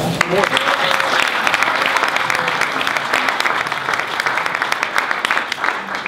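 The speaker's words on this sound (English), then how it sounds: "big round of applause" Steady applause from an audience at a health talk greeting a guest speaker, dense clapping that fills the room at an even level for the whole stretch, with faint voices under it.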